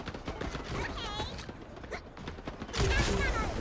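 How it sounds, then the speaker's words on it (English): Explosions and gunfire crack through a frantic video game firefight, with dense overlapping blasts and a louder burst near the end, while players talk excitedly over the action. "There's so many explosions going off down there."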